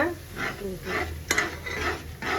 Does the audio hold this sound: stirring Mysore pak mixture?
yes